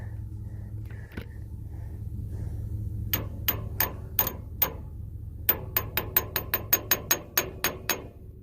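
An impact wrench fitted with chrome sockets works on a haybine, giving sharp, loud bursts of rapid hammering, first a few spaced hits, then a fast run of clattering impacts over a low background hum.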